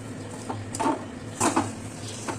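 Mung dal filling being stirred in a pan until dry, with a spoon scraping and clinking against the metal in a few soft, irregular strokes over low kitchen background noise.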